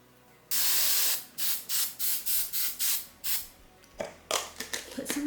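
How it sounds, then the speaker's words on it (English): Hairspray from an aerosol can hissing onto hair: one long spray, then a run of about ten short rhythmic bursts, loud and close, ending in a few quicker puffs. "Put some hairspray."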